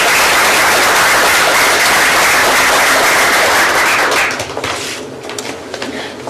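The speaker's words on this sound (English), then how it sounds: "Let's just give those students a round of applause" An audience at a school board meeting applauds student musicians, including a tuba player, with loud, dense clapping for about four seconds before it thins into scattered claps and room noise.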